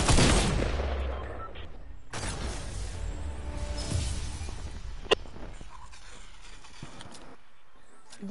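Fortnite gunfire sounds out, with a loud blast at the start and another burst partway through, then a single sharp crack over a continuous dense game background.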